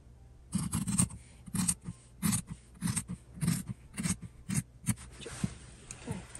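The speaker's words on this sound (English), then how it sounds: "We're going to cut that out." Scissors snip through fabric pieces being cut out for a sewing project, a steady series of about a dozen close, crisp crunching cuts in a regular rhythm.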